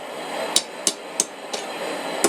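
Hammer forging a steel leaf key chain on an anvil without a horn: five sharp metallic blows at an uneven, unhurried pace, ringing clearly over a constant background hiss.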